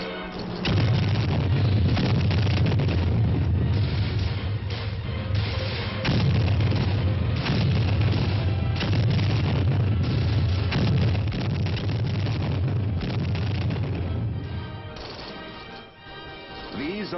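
Military artillery supporting fire in a rifle platoon attack, with dense continuous booming explosions and rumbling crashes, loud and heavy throughout, easing off briefly near the end.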